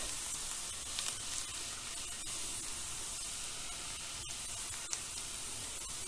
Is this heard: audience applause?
no